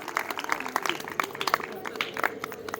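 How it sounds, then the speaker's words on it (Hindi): Audience clapping at a village gathering in Kinala, scattered and uneven hand claps mixed with crowd murmur and a voice underneath. "जोरदार तालियां भाई MS के लिए भाई।"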